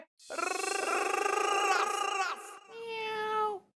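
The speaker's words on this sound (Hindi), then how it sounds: "बिल्ली आ गई है, भगा बे" A cat gives a long, loud, strained meow, then a shorter second one, close and clear with no talk over it.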